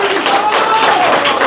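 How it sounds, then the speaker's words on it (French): A crowd at a ceremony installing a new regional health administrator claps continuously, a dense and fairly loud burst of applause with voices mixed in. "On nous applaudit Madame Ketli Bien-Aimée encore une fois"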